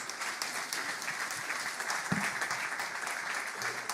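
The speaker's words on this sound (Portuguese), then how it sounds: "Uma salva de palmas, meus irmãos." A church congregation in Portugal applauding at a 25th anniversary celebration, steady dense applause heard from a distance, fairly faint and continuous throughout.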